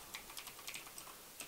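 Fingers typing Python code on a computer keyboard, a quiet run of light, irregular key clicks with brief pauses, close and alone without any voices.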